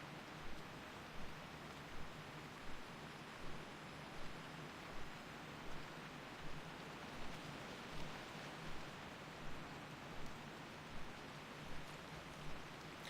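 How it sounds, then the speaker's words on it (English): Heavy rain in World of Warcraft Ascension, a dense continuous hiss of falling water with faint regular soft thumps repeating about every second underneath, steady and unbroken with no talk. "Heavy rain."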